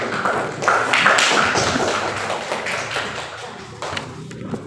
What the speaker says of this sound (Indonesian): Oke, tepuk tangan untuk semua kelompok dulu.